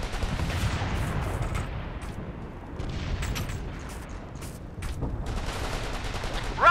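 Sustained gunfire in the Operation Flashpoint: Red River combat game, dense overlapping rifle and machine-gun bursts with heavy low rumble, continuous and loud, with a few sharper distant cracks.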